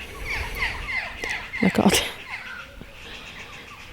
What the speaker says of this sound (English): the noise of the birds